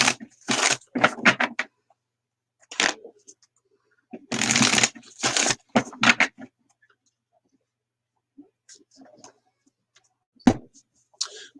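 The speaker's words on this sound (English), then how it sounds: "The cards are shuffled" Tarot cards riffled and bridged in several quick bursts, separated by pauses, with a few soft taps and rustles in between.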